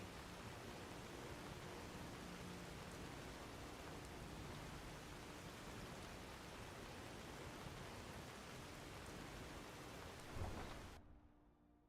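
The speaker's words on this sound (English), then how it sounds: "let's get out of this rain" Steady, heavy rainfall hisses continuously with a low rumble underneath, then abruptly cuts to near silence at the very end.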